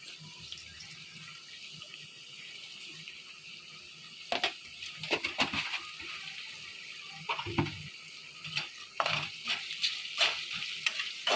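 Garlic paste frying in a pan for a poppy seed cauliflower and potato curry, a steady soft sizzle with bursts of scraping, clattering stirring strokes growing busier toward the end.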